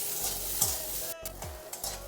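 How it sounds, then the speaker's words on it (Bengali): Garlic, onions and green chillies frying in a pan for potol bharta in a village kitchen, a constant sizzle under repeated scraping stirs of a spatula against the metal, close and fairly loud, with no talking. "দিয়ে রসুন আর পেঁয়াজগুলো বেশ একটু ভালো করেই ভেজে নেব।"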